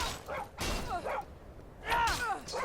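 A dog in the video game Skyrim yelps and whimpers after being struck, with several sharp, pained yips in short bursts that sound close and moderately loud.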